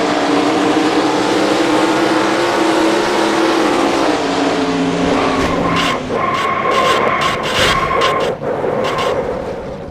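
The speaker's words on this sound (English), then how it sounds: "That was a hard hit for the 48 car and Anthony Nez." In the NASCAR Racing 2003 video game, race car engines roar loudly, then tires skid and scrape through a hard crash, followed by sharp metallic impacts and engine noise fading down.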